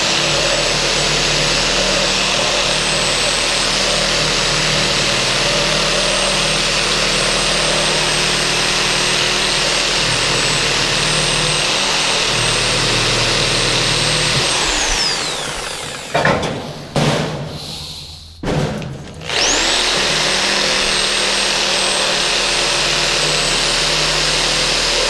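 Sawzall reciprocating saw fitted with a carbide blade cutting firewood, a loud steady buzzing drone that runs continuously, breaks off briefly in several short stops near the end, then resumes at full speed.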